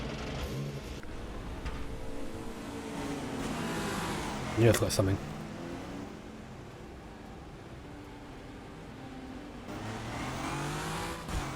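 A race car engine in a racing simulator game running an endurance race at Sepang, droning steadily throughout with a brief sharp spike midway, while someone talks over it.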